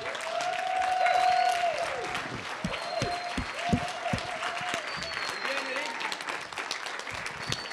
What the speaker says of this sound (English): Please give me a big round of applause from my good buddy, Mr. Eric Fierro.